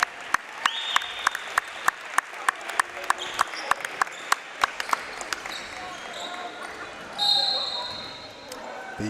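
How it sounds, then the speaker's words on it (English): Crowd applause for the seniors at a girls' basketball senior night against Notre Dame, a light scattering of claps mixed with sharp, evenly spaced basketball bounces and a voice over the gym. "A much-deserved round of applause by the crowd here"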